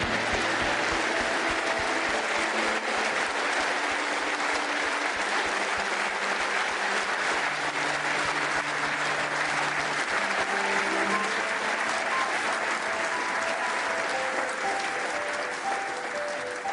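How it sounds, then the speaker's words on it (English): Sustained applause from a crowd at Venue Cymru during a snooker tournament tribute, steady, dense clapping lasting the whole time, with faint music-like tones beneath. "that minute's applause inside Venue Cymru for Terry Griffiths and Ray Reardon"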